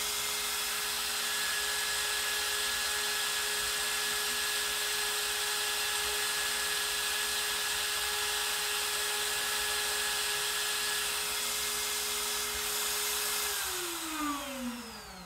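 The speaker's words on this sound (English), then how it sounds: "It's a router." A Shaper Origin handheld CNC router cutting an engraving gives a loud, steady high-pitched whine with a constant hum, then winds down in pitch near the end.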